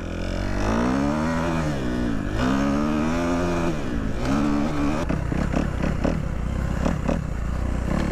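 A quad bike engine revs hard on an abandoned dirt road as the rider tries for a wheelie, its pitch rising and falling in several loud surges before breaking into choppy, uneven bursts.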